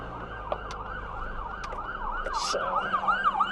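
An ambulance siren wails past in repeated rising and falling sweeps, fairly loud and steady over a low rumble of road traffic, growing slightly stronger toward the end.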